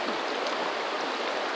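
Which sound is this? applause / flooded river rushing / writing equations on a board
flooded river rushing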